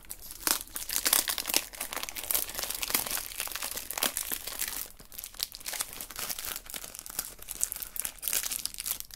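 Plastic blister packaging from groceries being squeezed and opened up close: a continuous crinkling, crackling and tearing of stiff plastic with dense sharp snaps and a brief softer pause midway, no talking.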